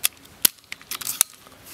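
A Bocap Predator 500cc PCP air rifle charged to 2000 psi fires; sharp, close cracks and clicks come in an uneven series, several loud snaps separated by short quiet gaps.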